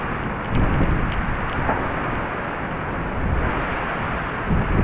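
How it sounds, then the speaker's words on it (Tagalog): Strong storm wind roars steadily around a house, a dense, continuous rush with gusty swells and heavy buffeting against the microphone, loud and close throughout with no talk. "Oh, grabe yung hangin, oh. Wala, nakakatakot."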